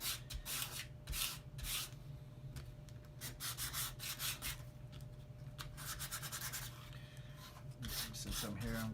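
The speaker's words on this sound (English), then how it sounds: "Use a little bit of sandpaper." Hand sanding on a wooden part of a UGears Tower Windmill mechanical 3D model kit with a little sandpaper, a series of close, scratchy back-and-forth rasping strokes in bursts.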